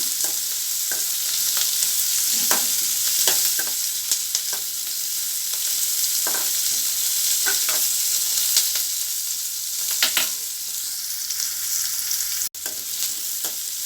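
Onions for channa masala sauté in a pan with a continuous close sizzle, broken by repeated scraping and tapping as they are stirred, and no one speaks.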